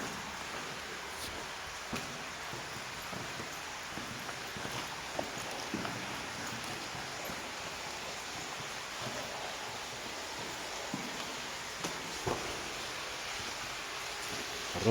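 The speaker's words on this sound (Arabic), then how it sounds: "أنا ماشي في مية حرفيا" Footsteps wade and splash through shallow stream water in an abandoned forest beside a railway line below a mountain, in rain, steady and close against a broad rushing wash of water with occasional sharper splashes.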